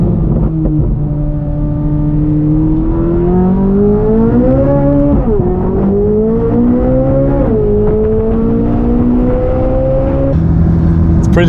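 Matte black Corvette Z06 with Z07 package, engine droning loudly from inside the car as it accelerates, pitch climbing through gears with distinct drops at shifts, a steady close roar throughout.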